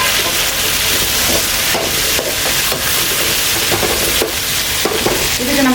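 Tomatoes tossed into sautéed onions for a vegetable salna sizzle and fry in a hot pan, steady loud hiss broken by the scrape and clack of a stirring spoon every second or so.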